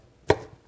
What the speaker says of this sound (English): I'm just going to give it a rough chop.